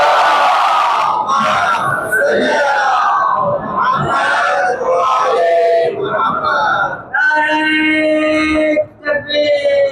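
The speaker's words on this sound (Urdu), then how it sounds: "نعرے کو ہمیشہ بلند آواز کے ساتھ پڑھتے ہیں سب مل کے بآواز بلند، صلوات" A large crowd at a Muharram religious gathering in Karachi chants a salawat slogan loudly in unison, voices rising and swelling together, close and powerful.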